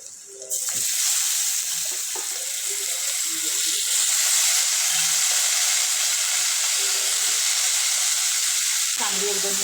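Eggplant sizzles loudly in hot oil with onions fried golden in a pan, a steady bright hiss running throughout with occasional stirring knocks.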